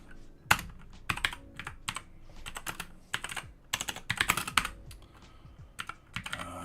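Someone types on a computer keyboard while doing web development work, with irregular bursts of crisp, close key clicks and clattering runs separated by short pauses, with no voices.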